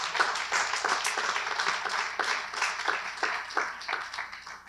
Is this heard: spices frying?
no